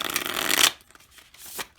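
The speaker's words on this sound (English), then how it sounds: "They shuffle really easily. I could probably do a poker shuffle." A deck of tarot cards is riffled in a poker-style shuffle, giving a dense, crisp flutter of cards lasting under a second, then a short softer rustle as the deck is squared.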